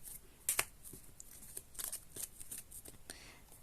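Paper cards being handled and shuffled while picking vote cards in a tabletop game: soft close flicks and snaps in quick clusters, faint and intimate, with light breathy sounds between them.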